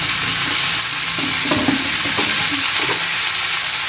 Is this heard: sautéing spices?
yes